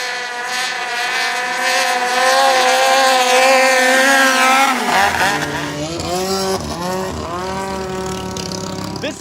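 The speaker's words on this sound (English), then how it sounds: "Bonus round, racing Thai longtail riverboats." Thai longtail riverboats race with loud, high-revving engines howling and shifting pitch, one close and roaring while others whine in the background.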